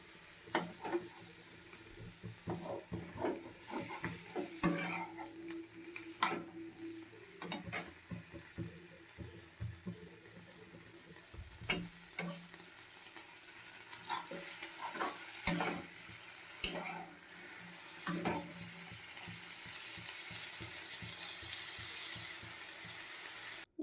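Pointed gourd (parwal) frying in a pan for an Odia potato curry: a soft, steady sizzle broken by repeated clinks and scrapes of a stirring spoon, close and quiet, with no voices.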